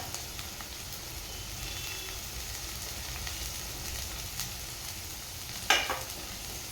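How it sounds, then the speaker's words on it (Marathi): Spring onions sizzling and being stirred in a hot pan for egg fried rice, a steady close fry with soft scraping and one sharp clink near the end. "आणि ते सुद्धा एकदा परतून घेणार आहे. आणि घालायचे कांद्याची पात"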